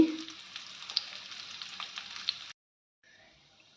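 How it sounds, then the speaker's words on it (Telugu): Dates heating in ghee in a pan give a dense, close sizzle with small crackling pops that cuts off abruptly, then resumes faintly after a short pause. "ఖర్జూరం వేడి చేయటం వల్ల అండి ఇలా ముద్దలాగా ఫామ్ అవుతుంది."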